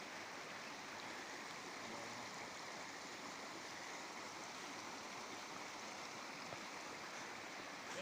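A small stream flowing in a Bosnian outdoor setting just before a crossing, a steady broadband wash of water that holds even and continuous throughout, fairly close, with no voices.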